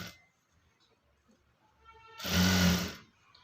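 A sewing machine stitching a pattu saree blouse, quiet at first and then one short loud whirring burst of stitching close by, fading out after about a second.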